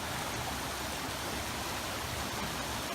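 Water from a stream at The Basin, Franconia Notch State Park, pours in a continuous even hiss, near and unbroken, with nothing else audible.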